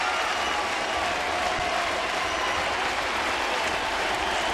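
A baseball stadium crowd applauding and cheering during a Colorado at Toronto game, a dense steady wash of clapping and crowd noise filling the whole stretch without a break.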